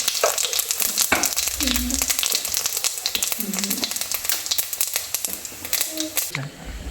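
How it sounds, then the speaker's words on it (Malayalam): Whole cumin and halved dried red chillies sizzle and crackle in hot oil for a kurukku kaalan tempering, a busy frying hiss with stirring scrapes, while a person talks over the pan. "കുറച്ച് വറ്റൽമുളക്, ഒരു 3-4 വറ്റൽമുളക് 2ആയിട്ട് മുറിച്ചത് ഇട്ട് കൊടുക്കുന്നുണ്ട്."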